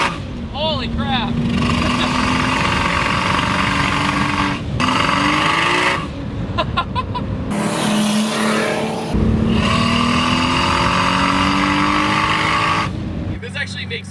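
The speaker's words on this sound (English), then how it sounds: "This actually makes more turbo noise than the VR6 did" An MK4 Volkswagen Golf GTI with an upgraded turbo accelerating hard in repeated pulls, engine pitch rising with brief gaps at gear changes, loud and close from inside the car, with someone talking over it.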